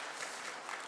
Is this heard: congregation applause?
yes